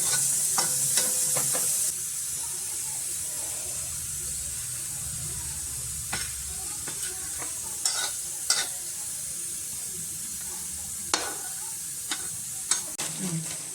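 Fennel seeds dry-roast in a pan with a soft steady hiss and occasional scraping stirs, faint and close, with no talking.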